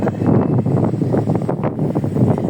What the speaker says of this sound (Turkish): yağmur da geliyor, rüzgar da var